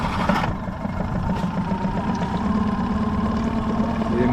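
A 26-foot Koffler center console boat's outboard engine idles steadily, a close, continuous mid-pitched rumble that runs throughout with a brief sharper burst near the start.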